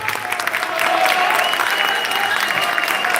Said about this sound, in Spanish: Los aplausos, por favor. Hay que despedirlos como se debe.